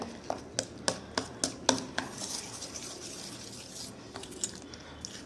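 A spoon stirs sugar into homemade chocolate cake batter for children, made without an oven, clinking sharply against the bowl in a quick run of taps before settling into quieter, steady scraping, close by with no voices.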